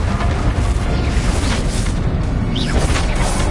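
Loud spell explosions in the wizarding game Hogwarts Legacy, a dense run of booming blasts with crashing debris and whooshes layered over battle noise, sustained and heavy throughout.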